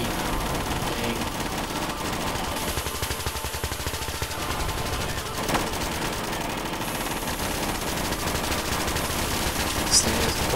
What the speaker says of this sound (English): You have some high caliber guns back here.